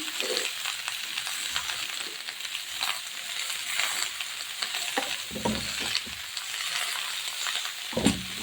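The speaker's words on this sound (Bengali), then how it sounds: "লাউটাকে এবার আমি মাছের তেলে নেড়ে ছেড়ে আমি এবার লবণ হলুদ দিয়ে দেবো" Chunks of bottle gourd sizzle steadily in fish oil in a pan while being stirred, with a constant close frying hiss broken by scraping and clinking stirring sounds.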